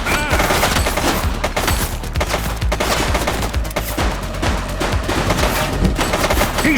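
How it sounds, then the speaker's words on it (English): A shooting suspect's gunfire in the police video game The Precinct: loud, continuous rapid-fire bursts like a machine gun, dense and close, with no pauses for the whole stretch. "He's shooting!"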